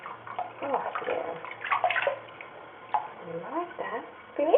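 A parrot bathes in water, with splashing and sloshing sounds mixed with chirps and squawks, while a person talks to it nearby.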